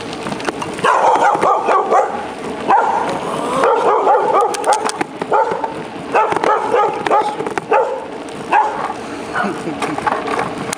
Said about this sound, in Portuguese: Cachorro que late.